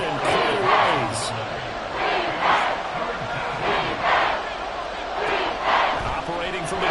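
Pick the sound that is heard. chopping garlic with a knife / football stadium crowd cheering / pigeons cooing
football stadium crowd cheering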